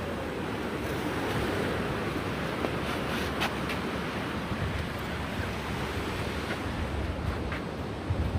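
Incoming tide washing over the La Jolla tide pools in California, a steady roar of surf with wind buffeting the microphone throughout and no voices.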